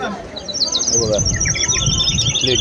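Fast, trilling chirps from a water whistle imitate a sparrow, bright and near, over a low murmur of background noise at the Kala Ghoda Arts Festival in Mumbai.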